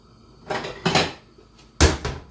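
Several sharp clanks and knocks of metal pot lids being handled, three separate bursts close by with short pauses between.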